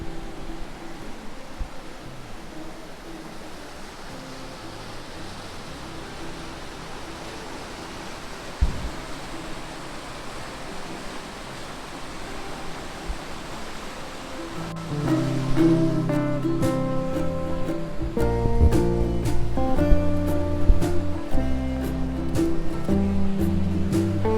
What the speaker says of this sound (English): you can hear rushing water